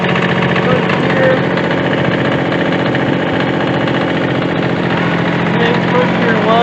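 A Kubota B6100 tractor engine chugs steadily in low first gear, a loud close continuous mechanical drone with a voice talking over it.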